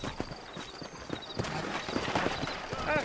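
Horses' hooves clip-clop in a steady trotting rhythm in the western video game Red Dead Redemption, with a character speaking over them and a short whinny near the end.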